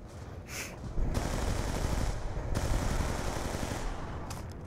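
A sustained burst of gunfire from a weapon in Call of Duty Die Rise zombies mode rattles on steadily for several seconds, loud and close, with no talk over it.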